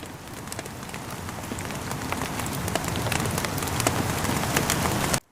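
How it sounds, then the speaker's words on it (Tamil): Steady rain falls in a dense, continuous patter, with scattered louder drops striking surfaces close by, holding at a moderate level for about five seconds before cutting off abruptly. "இப்படி மழை பெய்யுது"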